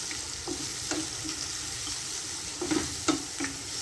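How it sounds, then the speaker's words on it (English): Blended shallots sizzle steadily in a hot pan for a mutton masala, with a spoon scraping and stirring in several distinct strokes over the constant frying hiss, close and moderately loud. "now add the blended shallots"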